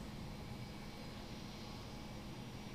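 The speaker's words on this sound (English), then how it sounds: "it looks like a flight of F-15s are about to make a pass" A flight of F-15 fighter jets passes overhead in the Lock On flight simulator game, a loud, steady, broadband jet roar that holds evenly throughout with no voices.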